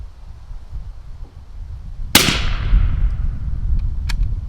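A single sharp rifle shot through a GSL Bushman suppressor, a loud close crack followed by a fading rumbling tail, over steady outdoor background noise.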